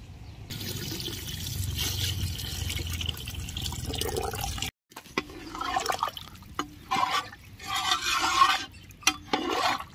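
Water poured into a pot of Dindigul Thalappakatti-style chicken biryani, a steady trickling pour that breaks off briefly, then resumes in uneven splashes and gurgles, close and fairly quiet.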